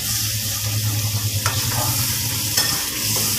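A pan of soybean curry with spices, cashews and melon seeds fries in a steady sizzle, with a spoon scraping and stirring through it in short strokes, close up and without talk.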